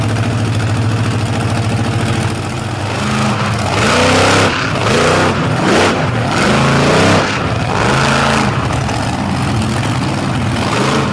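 An ailing truck engine at a competition event strains and struggles, droning loudly with repeated rising and falling revs that surge and sag several times without building to full power.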